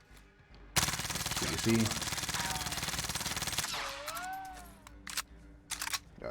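Rapid Mag 10 shotgun fire in a war-style shooter game blasts in a dense, loud stream for about three seconds, then gives way to lighter game effects and brief talk.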